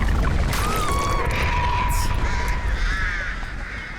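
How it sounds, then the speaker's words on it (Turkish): Crows caw in Dead by Daylight, with a few harsh calls standing out over a constant loud ambient rumble of wind and water. "Bundan cesetleri yiyen kargalar."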